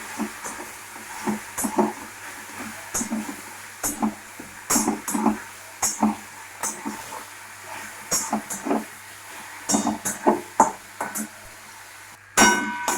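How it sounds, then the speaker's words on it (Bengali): Ground onion stirred in a little oil in a pan, with a spoon clinking and scraping against the metal in irregular taps over a soft sizzle, close and fairly loud. "পেঁয়াজটা হালকা তেলে নেড়ে নেবেন।"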